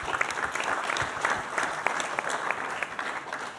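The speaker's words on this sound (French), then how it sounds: "Oui, vous pouvez les applaudir." Applause from the audience at an information evening on prostate cancer, steady clapping at moderate level for about four seconds, with faint crowd murmur beneath.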